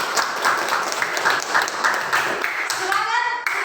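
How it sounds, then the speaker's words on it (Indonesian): Students in a class give a round of applause, steady clapping with rhythmic surges for about three seconds, then fading as a voice begins near the end. "kita berikan tepuk tangan dulu"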